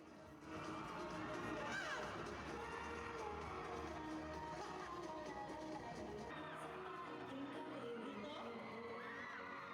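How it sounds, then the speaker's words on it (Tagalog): A large crowd of fans at a mall show cheers and screams continuously, loud and dense, with excited shouts rising throughout. "hiyawan na ang fans."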